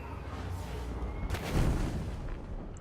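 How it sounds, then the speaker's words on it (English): Fiery blasts from a firestorm grenade in Divinity: Original Sin 2, a dense rumbling roar with a sharper burst near the middle that swells and then lingers under steady game noise. "How about firestorm grenade, like right there?"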